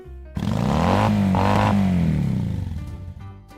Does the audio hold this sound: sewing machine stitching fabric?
no